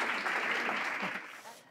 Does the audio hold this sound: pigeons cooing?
no